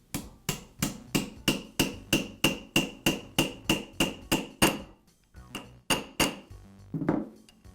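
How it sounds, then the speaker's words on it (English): Metal tapping: a hammer strikes a socket to drive a bearing into place during a Milwaukee Hole Hawg drill armature repair, a quick, steady series of sharp clinks, with a short pause before a few final taps. "I'll use the socket and a hammer to tap the bearing into place"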